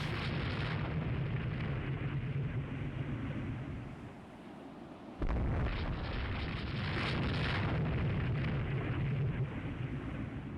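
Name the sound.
naval gunfire in video game Rule the Waves 3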